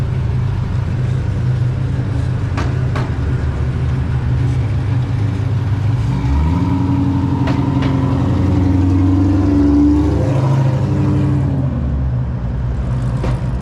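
A freshly tuned car engine on its first drive, a loud low rumble that swells and revs through the gears, rising and falling in pitch with no talking over it.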